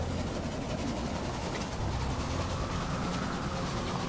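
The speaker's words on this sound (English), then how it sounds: "Here comes 2 trains coming in." Trains rolling into a station in the railway management game Railway Empire, a steady rumbling rail-and-engine noise at constant loudness with no talk over it.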